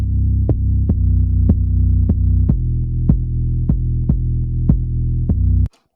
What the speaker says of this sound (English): Here's the 808.